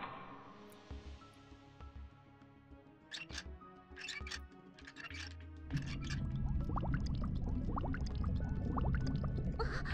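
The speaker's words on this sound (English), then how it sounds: "the pool water should be drained" Pool water drains in the horror game Corpse Party Blood Drive, starting with scattered clicks and knocks before a loud, steady rushing gush of water takes over in the second half.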